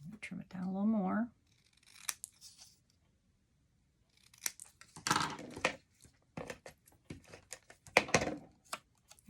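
Scissors trim card paper for a handmade Stampin' Up! greeting card, a series of short crisp snips and paper rustles at close range, with someone speaking briefly beforehand.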